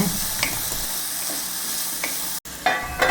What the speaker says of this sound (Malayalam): നമ്മൾ ഇതൊക്കെ വഴറ്റിയെടുക്കുന്നത് ലോ ഫ്ലെയിമിലിട്ട് വേണം ചെയ്യാൻ